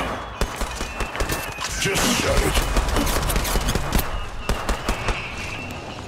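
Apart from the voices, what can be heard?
gunfire in the video game Apex Legends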